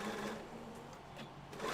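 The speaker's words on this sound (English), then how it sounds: "I'm going to back stitch to hold that in place" A sewing machine runs continuously for a short burst, stitching quilt binding strips, its steady rapid mechanical whir close and even throughout.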